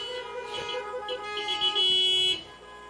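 Car horns honk during a Portuguese-language church sermon, several toots and a long sustained blare layered over tonal background sound, loud and close.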